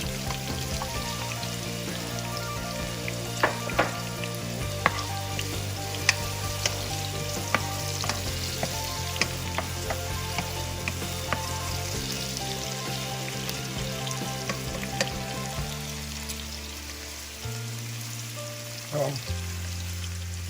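Tomato fries in a pan for shrimp curry, a steady close sizzle with occasional utensil taps and stirring clicks running throughout, no talking.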